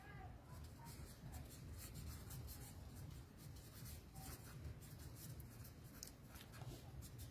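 A mathematical formula being written by hand, soft continuous scratching of pen strokes close by at low volume, with faint background noise and no clear talk.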